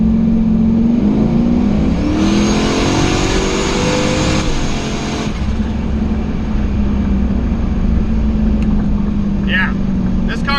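Chevstang car launched hard in second gear with a transbrake, a loud roaring engine climbing in pitch as it accelerates, heard from inside with a person's voice under the noise.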